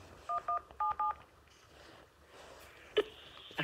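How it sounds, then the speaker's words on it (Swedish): Four telephone keypad tones dial the Swedish health line 1177, two quick pairs of short beeps, then a longer tone follows after a pause. "Jag ringer 1177, 11 november 2023."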